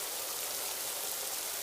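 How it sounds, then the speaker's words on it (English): Heavy pouring rain in a Thomas and Friends episode, a dense steady hiss of falling water, soft and continuous with no voices over it. "But physically, Firebox, it was pouring outside."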